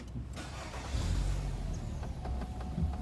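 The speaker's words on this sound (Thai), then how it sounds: "กดเหยียบเบรกกดสตาร์ทได้เลย" A Nissan X-Trail 2.5V 4WD SUV starting by push button, the engine cranking briefly and then settling into a steady idle hum close by.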